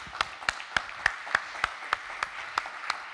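A conference audience applauds with a slow, steady run of distinct claps about every third of a second, sounding like one near clapper against a soft wash of room noise, with no talking.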